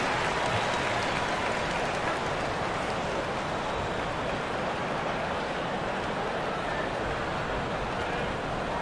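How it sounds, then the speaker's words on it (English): Steady wash of crowd applause and cheering fills an NBA arena during an Orlando Magic vs Charlotte Hornets regular-season basketball game, loud and continuous with no break. "Please give a big round of applause for your Hornets new tennis team."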